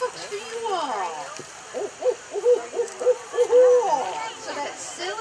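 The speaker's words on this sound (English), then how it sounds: "you'll see a fun way to remember the barred owl's call" A barred owl's rhythmic hooting series rings out at an outdoor fall fair, a run of close, repeated hoots with crowd chatter murmuring faintly underneath.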